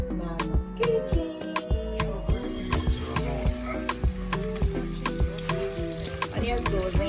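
Onions sizzling and frying in a hot pan for achicha, a Nigerian dish, with steady crackling and a rhythmic knocking of stirring or tapping throughout, close and clear.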